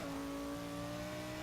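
An Audi RS6 wagon in a racing video game pulls hard out of a corner, its engine droning in a steady, moderately loud tone for a short moment with no talk.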